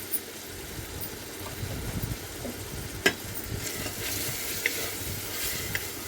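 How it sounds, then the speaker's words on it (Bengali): Lentils fry in oil with ginger-garlic paste while being lightly stirred, giving a steady low sizzle with soft scraping stirs and one sharp clink near the middle, no voices. "আদা ও রসুন বাটাটা দিয়ে হালকা নেড়ে চেড়ে নিচ্ছি"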